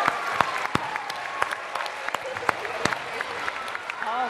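An audience claps for first graders at a school reading program, steady applause of moderate loudness with a few faint voices and a cheer mixed in.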